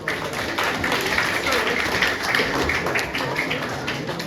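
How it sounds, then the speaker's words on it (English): Audience applause at a football player-pathway presentation, a steady wash of clapping from a room of people lasting several seconds at moderate level. "Give Zach a big round of applause."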